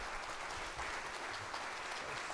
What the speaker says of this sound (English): Let's give our speakers tonight another round of applause.